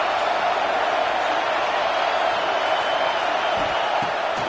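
Steady crowd roar fills a football stadium on a big third down, a dense wash of cheering voices holding at an even level throughout, with scattered whoops mixed in and no break in the noise.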